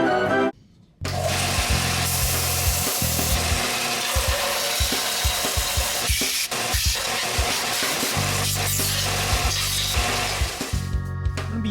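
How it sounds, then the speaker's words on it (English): An electric sander grinds continuously across metal and wood on an old gas can, a loud close whirring drone with scraping texture that holds steady nearly throughout after a brief start. "I can just sand the metal and the wood in one shot"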